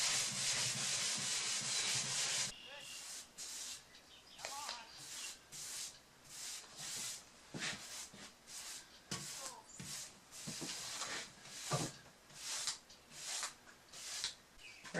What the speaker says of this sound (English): we're using a green Scotch-Brite pad just to give it a bit of tooth